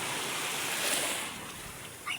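Ocean surf at Sitio Pulo beach near a harbor on Polillo, a steady close wash of waves with gusts of wind buffeting the microphone and a slight swell in loudness partway through.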